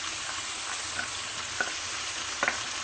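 Chicken fries in a pan with thinly sliced onion, a steady hissing sizzle with a few light taps and scrapes of stirring near the end.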